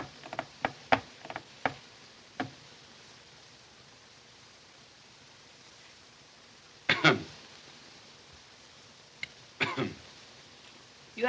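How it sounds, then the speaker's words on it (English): A man coughs in a few short, sharp bursts early on, then louder coughing fits follow after a pause, heard close against a quiet indoor background with faint hiss. "Why do you cough?"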